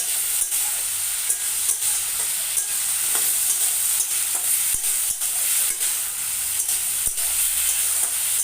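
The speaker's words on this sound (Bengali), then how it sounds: "আলুটা দিয়ে চুলার আঁচটা বাড়িয়ে দিলাম বাড়িয়ে দিয়ে এটা ভালো করে একটু নেড়ে চড়ে দিচ্ছি" Cut potatoes frying over raised heat in a pan, a steady bright sizzle with repeated scraping clicks from stirring, close and unbroken.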